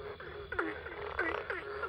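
Frogs croaking nearby, a series of short rasping calls repeating every half second or so over a faint background hiss.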